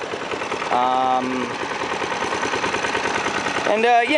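A 1994 Toro SuperPro Recycler II rear-wheel-drive, three-speed lawn mower engine runs steadily nearby with a buzzing, rapid-firing drone, while people talk over it throughout.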